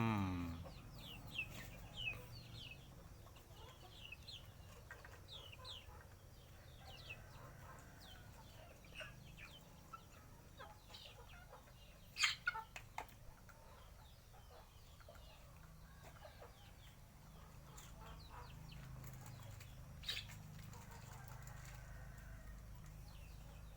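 Black-bone chickens cluck and chirp steadily in a farmyard, with scattered calls rising over a constant low background hum; no talking.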